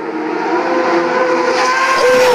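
A racing motorcycle at the Isle of Man TT screams past close and loud while popping a wheelie, its high engine whine rising steadily over a couple of seconds.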